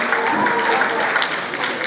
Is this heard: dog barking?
no